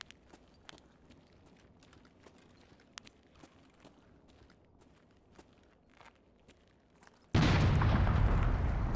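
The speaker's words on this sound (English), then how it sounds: "Okay, did not expect an explosion." A sudden loud explosion in the Escape From Tarkov video game breaks in after quiet scattered footsteps and rumbles on steadily to the end.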